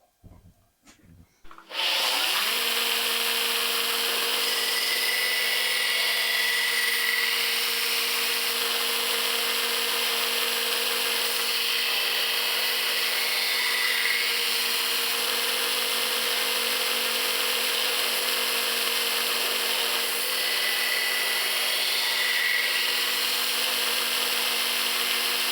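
A belt grinder grinds a knife bevel. After a brief quiet start it kicks in with a loud, steady, high-pitched whir and abrasive hiss that holds almost unchanged for over twenty seconds.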